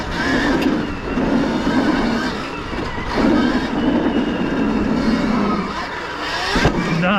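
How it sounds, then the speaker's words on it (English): Wind rushes steadily past the ears of a rider on horseback, a constant loud roar with faint thuds and rumbles underneath throughout. "I can hear the wind in my ears for the first time ever."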